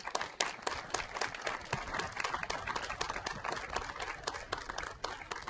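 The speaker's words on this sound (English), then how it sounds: "Give Joe a round of applause, please." Applause from an audience at a district court ribbon cutting, steady dense clapping throughout with no one speaking over it.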